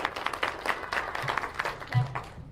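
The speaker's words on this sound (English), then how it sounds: "Everybody give her a round of applause." A live speech audience claps for a volunteer, scattered and uneven, with individual claps standing out and a brief low murmur among the crowd.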